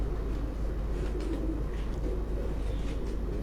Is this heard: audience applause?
no